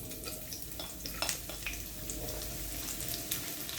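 Onion frying in a hot pan for picadillo: a steady, dense sizzle with scattered crackles and small pops throughout, close and continuous.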